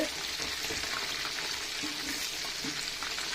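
Medium-sized prawns fry in hot oil in a pan, giving a steady, dense sizzle and crackle throughout with no talking.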